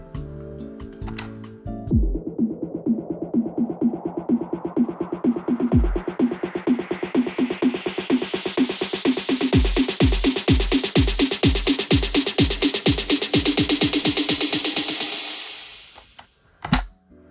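An EDM build-up pairs a sustained G note with white noise pulsed by an LFO, ticking rhythmically faster while the noise rises and brightens, then cuts out before a final hit.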